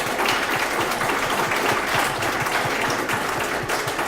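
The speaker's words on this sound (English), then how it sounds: "Can we have a round of applause?" A community forum audience claps together in full, steady applause that fills the room for a few seconds without letting up.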